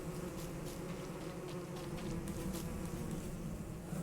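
Killer bees in the video game Don't Starve Together buzz in a dense, continuous drone, close and steady throughout with no talk.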